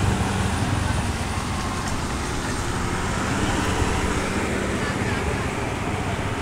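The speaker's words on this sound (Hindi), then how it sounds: "देखो बिल्कुल आराम आराम से आ रहा है गाड़ी" A big truck on a Haryana road near Panipat rolls slowly past, a steady broadband rumble of engine and road noise holding loud and close throughout, with talk faintly mixed in.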